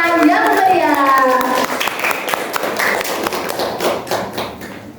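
Audience at a school talent event claps for a student introduced on stage, scattered taps and claps building after a voice and music-like tones fade early on, moderately loud and close.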